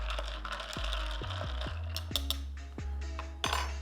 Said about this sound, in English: We're gonna give that another stir.